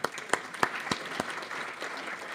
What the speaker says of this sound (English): let's just have a round of applause for all our announcements today.